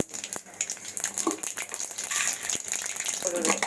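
Continuous crackling and popping of mustard seeds sizzling in hot oil, steady and close, with a few brief pops rising above the hiss.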